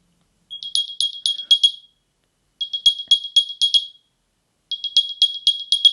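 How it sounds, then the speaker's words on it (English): AirPods Pro 2 charging case playing its Find My alert, three bursts of rapid high chirping tones separated by short silences, loud and close in a quiet room. "I wanted to play the Find My sound to see how loud it comes out of this case"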